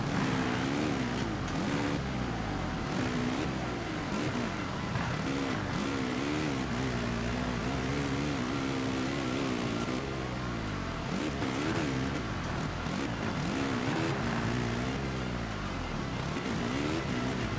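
A motocross bike engine drones and revs continuously in the MXGP video game on PlayStation 5 Pro, its pitch rising and falling with throttle changes, loud and steady with no pauses.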